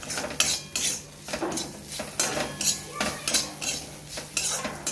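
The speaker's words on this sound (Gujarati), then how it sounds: "આ કરી દઈએ મસાલો મિક્સ" Spoon stirring and mixing roasted masala in a pan for Gujarati athanu pickle, repeated scraping and clinking strokes in an even rhythm with a soft sizzle underneath, no talking.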